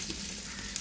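Cinnamon sizzling in hot coconut oil left over from frying meat for a homemade dum biryani, a steady close crackle and hiss with no talk.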